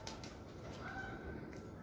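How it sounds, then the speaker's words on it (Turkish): Young pigeons give brief, soft cooing calls at a distance, heard faintly over a hushed outdoor background. "Kuşlar ürküyor."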